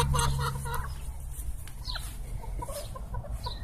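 A hen clucks repeatedly at a poultry-breeding yard, with short close clucks scattered across a steady low background hum.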